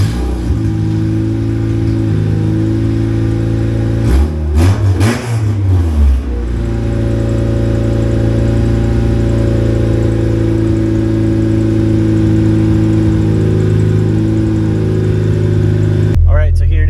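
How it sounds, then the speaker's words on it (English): A Honda EP3 with a K-series engine, race header and open downpipe idles loudly and steadily, broken by a sharp rev burst near the start and a cut at the end; no talk heard. "We're going to go ahead and fire it up and see exactly how it sounds open downpipe."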